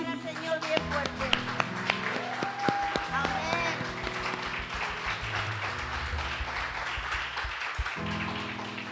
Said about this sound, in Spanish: Un aplauso para el Señor bien fuerte.